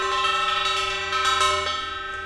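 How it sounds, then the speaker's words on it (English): A horizontally hung metal gong rings with a bright, sustained metallic tone as a small vibrating motor toy rattles against it, producing shimmering overtones and a sudden shift partway through, close and loud with no voices. "I've got a gong, which I hang horizontally, and in that I put this other kind of small vibrating motor toy."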